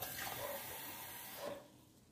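Well water pours from a tap into a cup, a close, steady hissing splash that runs for about a second and a half before stopping abruptly.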